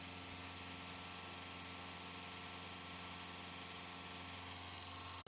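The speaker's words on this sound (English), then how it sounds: "Engine number 2 is a Yanmar 2GM20F with approximately 400 hours" A Yanmar 2GM20F two-cylinder marine diesel with about 400 hours, never run above 1500 RPM, idles and hums steadily up close, with a constant low throb and no voices over it.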